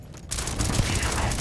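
Turret gunfire in the video game Starfield, a sudden dense burst of rapid shots that starts after a brief quiet moment and holds steady and loud to the end.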